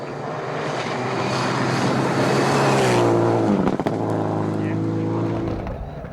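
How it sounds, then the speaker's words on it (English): Subaru Impreza rally cars race fast on a gravel stage, a loud engine roar building and passing with a sharp burst midway, followed by a fading drone, under a commentator's voice. "Fighting for second place were 4 drivers nearly as quick as Nasser, with plumes of dust clouds from their 4 wheels gripping into the gravel"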